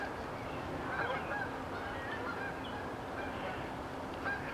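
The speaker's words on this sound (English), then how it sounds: "You can hear the geese in the distance." Geese honk faintly in the distance, scattered calls over a steady outdoor background hum.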